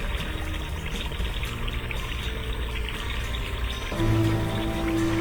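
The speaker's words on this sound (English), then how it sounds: "Below, the water finally flows under the bridge as it should." Water flows under a small bridge in a steady, gentle pouring trickle that stays close and continuous. A tonal hum joins in late and the level rises a little.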